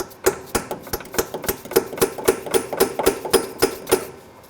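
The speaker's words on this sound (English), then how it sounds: "I'm just going to take a punch and a hammer and just give this a couple taps" A hammer taps a punch against a seized exhaust manifold bolt on a 2004–2009 Ford F-150 5.4L 3-valve, about fourteen sharp, evenly spaced metallic strikes ringing close and clear with no talk.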